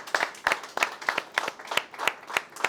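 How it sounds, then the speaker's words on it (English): Audience applause at the Meals Mean More 2024 cooking competition, a crowd clapping in quick, evenly spaced bursts from nearby, fairly loud and without any talk. "So can I give you a round of applause, please?"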